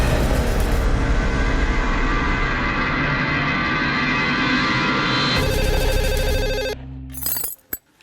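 A telephone rings loudly and continuously for several seconds, then cuts off into a brief clatter of handling noise, with no talking.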